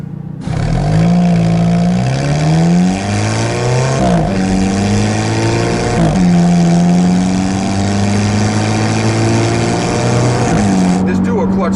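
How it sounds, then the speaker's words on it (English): A 2015 Alfa Romeo 4C with a dual-clutch transmission drives hard, its loud engine droning and rising through the gears with quick shift breaks, while a voice talks over the engine noise. "This dual clutch transmission is so nice. You can just drive it as is, or take over control, downshift."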